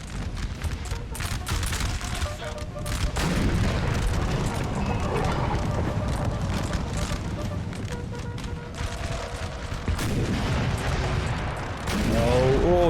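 Artillery fire in Napoleon: Total War, with dense booms and crackling volleys rolling on continuously over a thick, loud battle din throughout, as cannon shells land among the cavalry.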